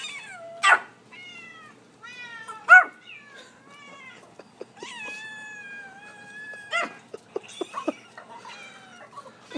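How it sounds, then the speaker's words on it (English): Cats meowing from a YouTube cat video played aloud through a speaker, a string of drawn-out, wavering meows and a few caterwauls at moderate loudness, with a dog's faint noises in the room. "She goes crazy whenever I play a Cats Meowing on YouTube."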